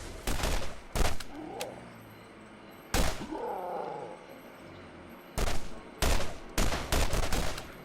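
Loud, close gunfire from a wide-spread gun in the video game Borderlands, several separate bursts of blasts with pauses between them.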